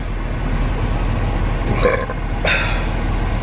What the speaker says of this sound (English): I had to burp there